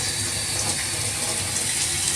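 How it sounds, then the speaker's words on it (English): Hot water runs steadily from a sink tap beside a Bissell 3624 Spot Clean Professional portable carpet cleaner, a continuous loud broadband rush filling the whole moment with no voices. "I'm going to turn on the hot water because we want to use hot water."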